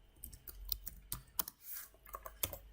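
Close, quiet clatter of computer keyboard keys as C code is typed, in quick irregular bursts of clicks with short pauses between.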